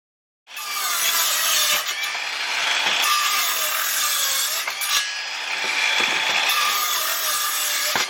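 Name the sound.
DeWalt DCS391 cordless circular saw cutting wood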